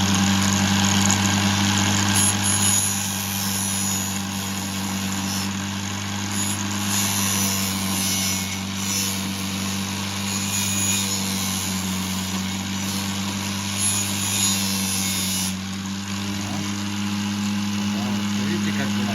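An angle grinder fitted with a coarse flap disc runs steadily, its motor whine and abrasive grinding sustained close by for the full stretch, with a person talking over it.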